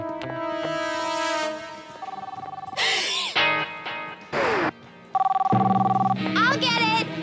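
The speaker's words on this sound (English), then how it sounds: "Answer the phone." Telephone ringing in a cartoon scene, a bell-like ring heard in short bursts mixed with crashes and lively character voices talking over it.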